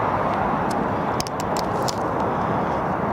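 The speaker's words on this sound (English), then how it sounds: "Very noisy motorway traffic right near us." Heavy motorway traffic close by sends out a continuous, even roar that stays steady from start to finish, with no talking.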